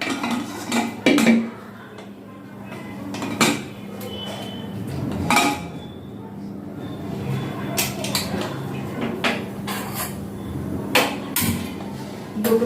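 Taro corms go into a pressure cooker amid repeated metallic clanks and clatters of pots and lids, sharp and close, scattered irregularly over a quiet kitchen background.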